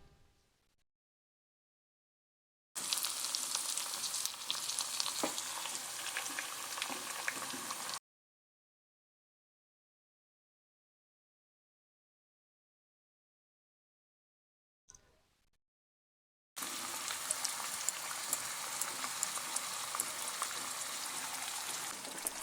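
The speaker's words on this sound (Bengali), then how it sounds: "এবার আমি চিকেনটা দিয়ে দেব" Chicken leg pieces go into browned onions in a pan over a medium gas flame and sizzle steadily, two loud stretches of frying separated by silence.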